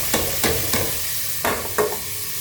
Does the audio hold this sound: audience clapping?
no